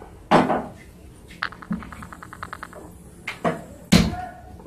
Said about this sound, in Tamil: இப்ப வந்து நம்ம ஸ்டவ் ஆன் பண்ணி தவா வைக்கலாம்.